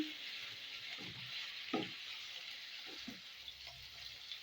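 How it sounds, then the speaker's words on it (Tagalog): Chicken pieces sizzle steadily in a hot pan for a chicken caldereta while a spoon stirs them, with a few soft scraping strokes over the constant frying hiss. "At ngayon ilagay na natin ang chicken. Haluin lang natin"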